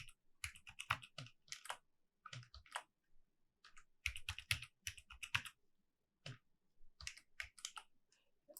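A password tapped out on a computer keyboard, quick bursts of crisp key clicks in uneven clusters with short gaps, close and fairly quiet, no speech.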